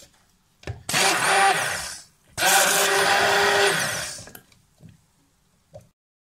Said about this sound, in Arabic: وبالهاند بلندر او في الخلاط